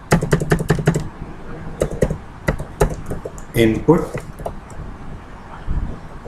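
Rapid keystrokes on a computer keyboard while code is written, a dense burst of clicks at the start, then scattered taps mixed with someone talking over them.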